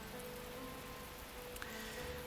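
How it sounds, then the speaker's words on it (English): Rain falling outside in a cold, gray scene from the visual novel The Fruit of Grisaia, a steady soft hiss of drops with no voices, even and unbroken. "It's raining outside."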